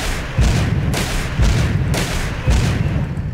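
Bandits firing in a video game, a series of heavy, booming gunshots arriving roughly every second, loud and close, with rumbling tails between them and no talk over them.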